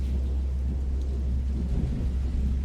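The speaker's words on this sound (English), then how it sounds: "there was no reply, other than the thunder rippling overhead" Thunder rolls overhead in a storm, a deep, steady low rumble with a faint rain-like hiss on top, continuous and fairly loud, with no voices.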